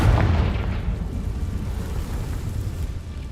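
A Confringo fire-blast spell explodes in the video game Hogwarts Legacy. A heavy, close boom opens with a deep burst, then rolls into a rumbling, crackling tail that slowly fades.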